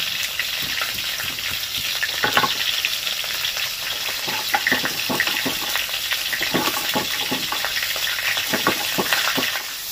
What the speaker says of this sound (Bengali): আলু আর ডাটা ভাজা হয়ে গেছে, এবার দিয়েছি কুমড়ো। এটাকেও ভেজে নেব।